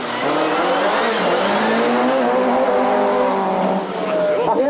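Rally cars launch at the start of a heat at the 1995 Mintex Rally Master, their engines revving loudly with rising pitch and tires squealing, a continuous powerful roar.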